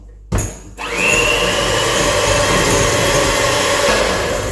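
An electric mixer creams sugar and butter for Cameroonian puff puff, starting with a brief clunk and then settling into a loud, steady whirring drone that runs without pause.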